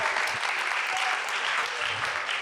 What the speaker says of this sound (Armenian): ծափարություններով